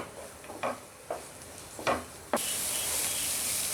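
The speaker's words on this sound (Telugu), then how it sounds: "యాడ్ చేసుకొని ఇలా ఫ్రై చేసుకోండి." Onion and capsicum pieces are fried in a pan: a few soft spatula scrapes and taps come first, then a sudden loud sizzle bursts in and holds steady.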